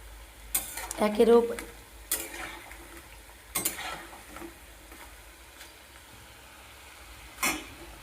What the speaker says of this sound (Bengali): এরকম লাল লাল করে ভেজে আনবো।